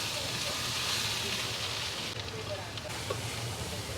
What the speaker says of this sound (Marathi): छान फ्राय करून घ्यायचा मसाला